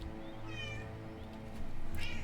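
A cat meows a couple of times over a steady background of game music, the mews rising and falling at moderate loudness, with no talking.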